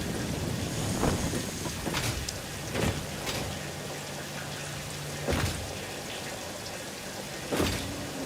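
Rain in the video game Satisfactory falls as a steady, dense hiss, with a few soft thuds and brief gusts rising out of it now and then.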